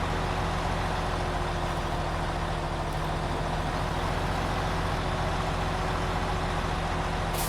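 A Mack truck engine drops down a gear in the video game SnowRunner, giving a steady, loud diesel drone that stays constant and unbroken throughout with no voices.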